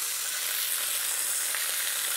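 Halloumi cheese frying in a very hot pan gives a loud, steady, close sizzle that holds without a break.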